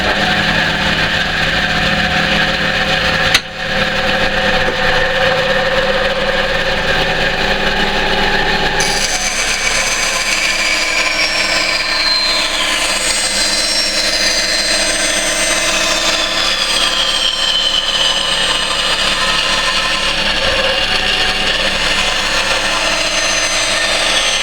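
Power saw making a straight freehand cut, a loud continuous whining motor with a brief jolt early on and a shift in tone partway through as the blade works through the material.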